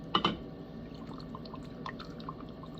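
Dark rum is poured for a rum punch, a short faint splash of liquid near the start followed by a few soft drips in a quiet room.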